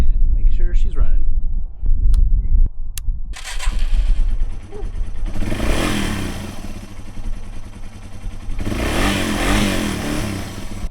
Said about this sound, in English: Nothing left to do but start her up and make sure she's running.